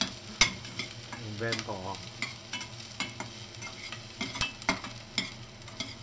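Squid and ginger stir-frying in a pan in a home kitchen: continuous close sizzling with sharp utensil scrapes and clatters against the pan, while a voice speaks briefly.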